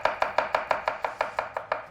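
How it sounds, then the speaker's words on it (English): A knife chops garlic on a cutting board in quick, even strokes, about a dozen crisp, close, loud knocks with nothing else heard. "So we're just chopping our garlic, Dario, just like this, just chopping it."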